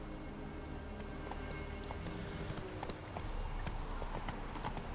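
Roach the horse's hooves clip-clopping in The Witcher 3, a steady trotting rhythm of close, repeated hoofbeats over soft ambient game sound, picking up slightly toward the end.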